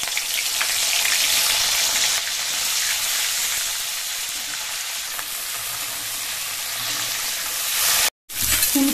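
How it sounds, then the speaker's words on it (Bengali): Cauliflower fries in mustard oil in a wok, a loud, constant crackling sizzle with stirring, broken by a brief silent gap near the end. "ফুলকপিগুলো ভাজা করে নেব।"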